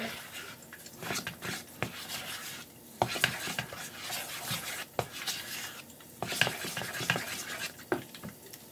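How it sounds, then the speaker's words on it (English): A spoon stirring a thickening milk sauce in a kettle, with quiet scraping and rubbing strokes against the pot and occasional light clinks, close and alone. "And we'll give this a little stir."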